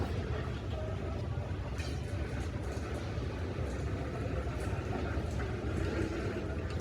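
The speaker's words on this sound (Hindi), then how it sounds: "GEU40 लोकोमोटिव जो उसको लीड करके आया है" A train led by a GEU40 locomotive rolls into a platform at Badamibagh station, a continuous heavy low rumble with a steady mechanical drone and no voices over it.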